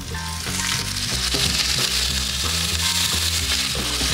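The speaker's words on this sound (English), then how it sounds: "I'm gonna take little broccoli florets and I'm gonna give them a little singe" Broccoli florets sizzling in hot oil in a pan, a loud, continuous, close crackling hiss that holds steady throughout with no talking.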